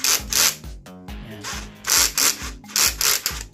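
A Makita cordless impact drill hammers in repeated bursts like an impact wrench, with several short, loud rattling runs separated by brief pauses, close up.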